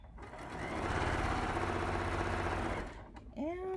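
A sewing machine stitches quilt sashing fabric in a steady, fast mechanical whir that runs for nearly three seconds and then stops. Brief squeaky handling sounds follow the stop.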